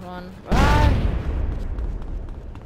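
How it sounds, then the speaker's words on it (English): Car exploding in Grand Theft Auto San Andreas: a sudden loud boom that cuts off a steady engine tone, followed by a rumbling, crackling roar that slowly fades. "Our first car exploding."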